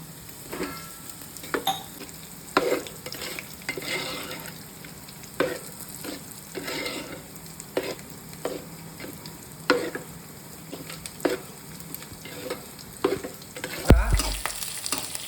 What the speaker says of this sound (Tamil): கருவேப்பிலை, மோர் மிளகாய் எல்லாமே நல்லா பொரிச்சு வந்துருச்சு.